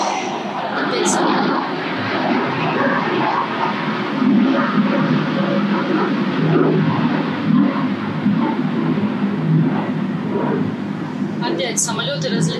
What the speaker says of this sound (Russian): Опять самолеты разлетались.